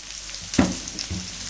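Onions sauté in a pan for chicken shawarma: a brief, close sizzle with one sharp stirring scrape in the middle.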